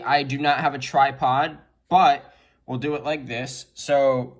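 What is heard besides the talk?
None of the usual background noises is heard.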